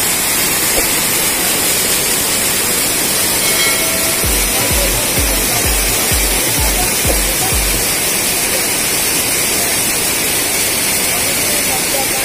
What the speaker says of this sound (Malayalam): വെള്ളം നല്ല ഫോഴ്സിൽ ഒഴുകി വരുന്നതുകൊണ്ട് നമ്മുടെ സംസാരമൊന്നും കേൾക്കില്ല.